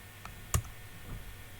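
A computer keyboard in use, giving one sharp, close key click with a fainter tick just before it, against quiet room noise.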